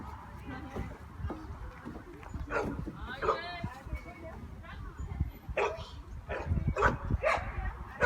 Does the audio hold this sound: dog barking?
yes